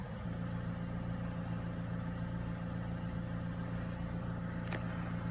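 A 2015 Toyota Camry engine idles steadily at low volume, a constant low hum with no speech over it.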